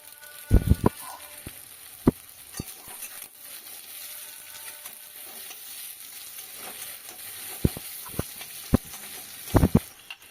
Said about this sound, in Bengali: এবার কুচনো পেঁয়াজটা দিয়ে দিলাম